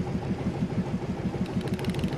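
Small motorized boat engine on a Vietnamese river craft, a steady rapid low putter with even pulsing beats, running close and continuously with no talk.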